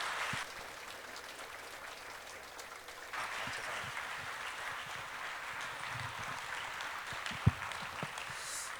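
A church congregation applauds to welcome the pastor, a soft, distant spread of many hands clapping that swells slightly midway and carries on steadily.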